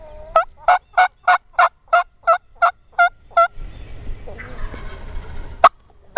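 A rapid series of about ten sharp, rhythmic wild turkey gobbles, then a rustling outdoor pause on public land and one more abrupt gobble near the end.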